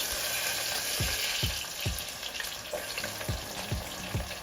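Onions frying in a pan for goat head curry give a steady close sizzle, with soft low stirring thumps at an irregular beat throughout and no talk.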